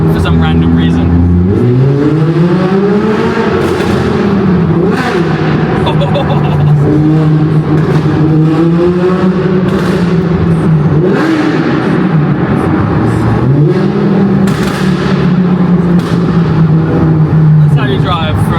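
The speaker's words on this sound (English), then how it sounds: "That's how you drive through a tunnel." A car accelerates hard through a tunnel, its loud engine note climbing and falling in repeated surges over nearly twenty seconds, with voices talking over it.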